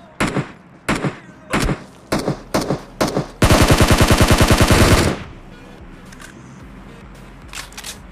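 Gunfire in PUBG Mobile: a string of loud, evenly spaced single shots, then a sustained rapid automatic burst lasting about two seconds, followed by quieter scattered sounds and faint distant shots.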